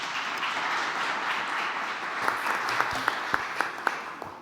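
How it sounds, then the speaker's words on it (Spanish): Audience applause at a book presentation by a parliamentary group in Mexico, a steady crowd clapping throughout with a few sharper individual claps standing out toward the end. "para quien pido un muy fuerte aplauso"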